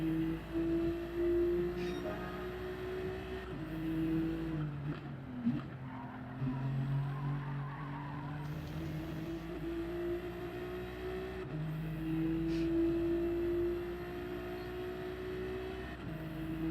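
A race car in Gran Turismo 7 at the Bathurst circuit, engine held at full throttle with long rising and falling pitch sweeps through gear changes, and brief tire scrubbing through corners, loud and steady with no talk.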